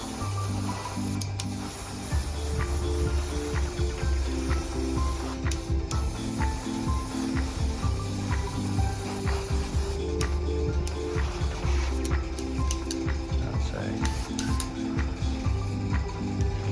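An airbrush spraying paint, a steady airy hiss with a rhythmic low mechanical pulsing underneath, continuous and close throughout with no talking.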